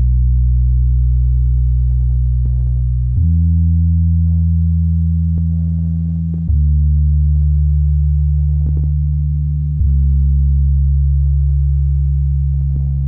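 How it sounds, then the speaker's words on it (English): Deep sustained bass hum from the infected creature character in the Incredibox mod Colorbox v5, holding steady tones that step down in pitch every few seconds, loud and alone with faint rhythmic clicks layered above. "That is a bass"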